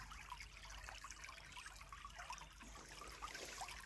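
A river flows with a soft, steady trickle and gurgle, quiet and continuous with no voices.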